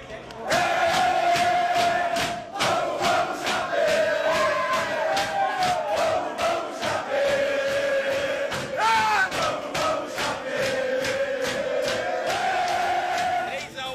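Chapecoense football players celebrate qualification in their locker room, a loud continuous roar of shouting, chanting and whooping voices with rhythmic clapping throughout, close and packed.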